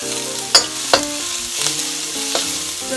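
Mushrooms hit a hot pan already sizzling with ginger for a shrimp lettuce wrap, giving a steady close frying hiss broken by a few sharp scraping stirs of the spatula over soft background music.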